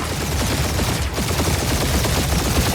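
Rapid gunfire in Marvel's Guardians of the Galaxy: a dense, loud barrage of fast repeating shots that stays steady and unbroken, with no talking over it.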